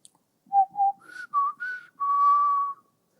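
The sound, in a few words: whistled imitation of blackbird song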